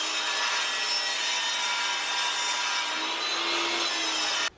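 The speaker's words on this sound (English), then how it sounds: "Then I'm going to use my saw to cut this board." A hand saw rasps steadily through a wooden board cut for bookcase trim, continuous close strokes with no talking, ending abruptly.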